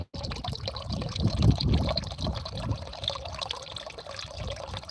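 Water is poured steadily during a household water shortage, a continuous splashing and trickling stream that runs without a break for several seconds, fairly close, with no voices over it.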